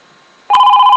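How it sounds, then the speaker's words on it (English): A telephone starts ringing abruptly, a loud, bright electronic bell tone with rapid pulsing that carries on steadily, following a near-silent moment. "My phone never rings."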